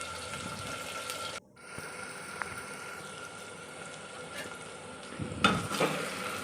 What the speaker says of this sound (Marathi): बटाटा ब्राऊन होईपर्यंत चांगला परतून घ्यायचा आहे।